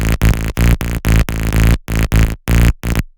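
A thick, buzzy FM synth bass layering saw, square and a sine an octave down plays a series of short, evenly spaced notes, fat and gritty with a deep low end, ending in silence.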